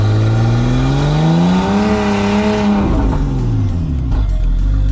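A Nissan S13 drift car with an RB engine is held at full throttle. The loud, close engine roar climbs steadily in pitch, holds high, then drops back into a deep rumble, with no voices over it.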